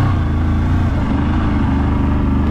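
A CF Moto 1000 ATV engine runs loud and steady at close range, a dense low rumble holding through the whole stretch with a slight rise in revs, no voices over it.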